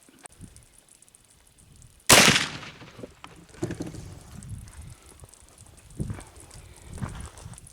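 A single sharp blast from a Lyman Great Plains black powder muzzleloader rifle, fired outdoors with a homemade powder blend, cracks loudly after a quiet lead-in, followed by faint rustling and movement sounds.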